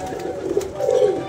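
Pigeons cooing softly at a rooftop loft in Punjab, low murmuring coos rising and falling over a steady background hum, with no voices.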